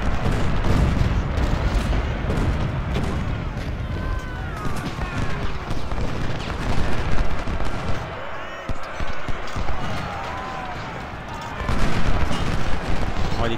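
Booming gunfire and cannon blasts from an Ultimate General: Civil War battle, dense and continuous, with German shouting and commentary running over the noise throughout.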